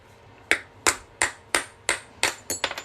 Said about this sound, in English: I'm just going to set the punch in here backwards and just lightly hammer that off